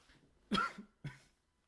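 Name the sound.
cough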